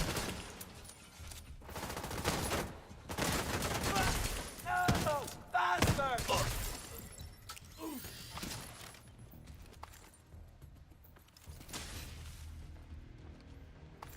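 Video game gunfire in bursts and single shots, punchy and busy, with thuds and impacts mixed in. Someone talks over much of it.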